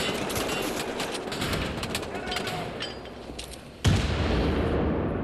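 Gunfire from Wolfenstein: The New Order crackles in a rapid, noisy burst of shots with a sharper report near the end, mixed with game sound effects.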